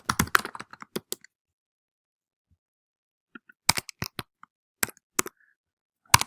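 Keys clatter on a computer keyboard in short bursts of typing, crisp and close, separated by a long silent pause in the middle.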